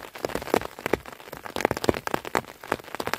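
Cold rain at 6°C falls during outdoor mushroom foraging, an irregular patter of close, sharp drops and taps striking nearby surfaces, moderately loud and without speech.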